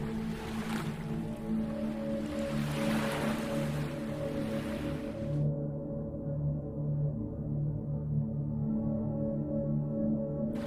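Sea waves wash onto a beach in a continuous hissing surf, with a steady tonal drone running beneath and the brighter spray fading out halfway through.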